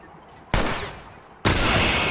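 Two sharp bursts of gunfire from the post-apocalyptic survival game The Last of Us, each loud blast followed by a sustained noisy tail, spaced about a second apart.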